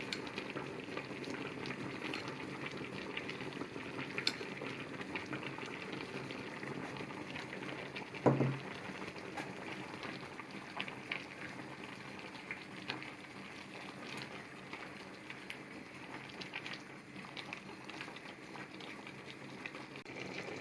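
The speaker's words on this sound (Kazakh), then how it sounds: "Бес минуттай қайнасын" Lecho, a vegetable salad with garlic and sugar, boils in a pot, a quiet, steady bubbling patter that runs unbroken with one brief clink partway through and no voices.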